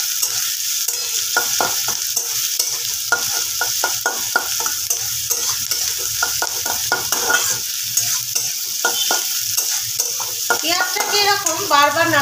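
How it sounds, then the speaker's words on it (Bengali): Onions frying and being stirred repeatedly in a pan for chicken kosha, a constant hiss under rapid, rhythmic spatula scrapes and knocks, near and clear, with no voices. "পেঁয়াজটাকে এরকম বারবার নাড়াচাড়া করে পেঁয়াজটাকে নরম করে নিতে হবে"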